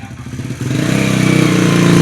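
A motorcycle engine close by idles with a rhythmic thumping pulse, then revs up and holds a louder, steady throbbing drone.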